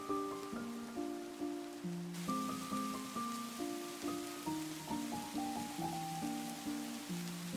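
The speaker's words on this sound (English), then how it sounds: "I also installed some new mods to improve the ambience, and that includes a new rain mod." A new rain mod fills a video game with a soft, even patter of rain, heard under gentle looping music notes that run continuously.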